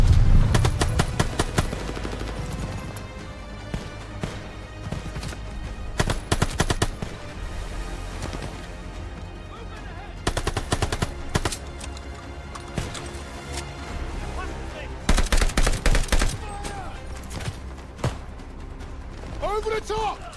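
Machine gun fire in the Call of Duty Vanguard video game, sustained loud bursts rattling across the scene with repeated volleys among battle noise and shouted voices.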